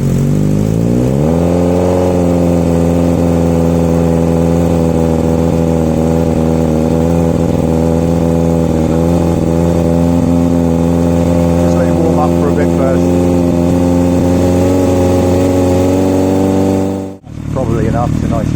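Motorcycle engine idling after a cold start, rising at first and then settling into a steady, loud, even idle with a strong harmonic hum before cutting briefly near the end, with someone speaking over it.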